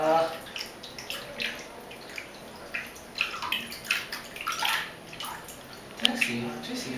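Water splashes and sloshes in a bathtub as a small child is washed, soft irregular splashes and drips close by under a voice talking throughout.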